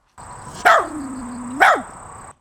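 A dog barks twice, about a second apart, close and loud, with a brief whine between the barks.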